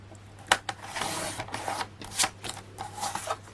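Navy pearl cardstock is cut to a square, giving a series of short, close, crisp slicing and shuffling strokes at an uneven rhythm, fairly quiet against a low background hum.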